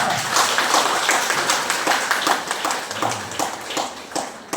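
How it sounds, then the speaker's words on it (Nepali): An audience at a public gathering in Dharan claps to welcome two guests. The applause is a steady, moderately close patter that fades slightly toward the end, and no one speaks. "ताली बजाएर स्वागत गराउँछ"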